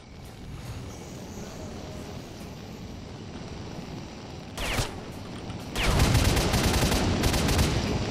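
Gunfire from armed zombies in S.T.A.L.K.E.R.: Shadow of Chernobyl: a short distant burst near the middle, then a louder, denser volley of shots over steady outdoor ambience, with no talking.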